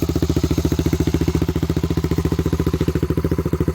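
A Honda ATC 350X three-wheeler, freshly restored, idles slightly fast and loud, its single engine thumping in a steady, rapid, even rhythm close to the microphone with no other sounds.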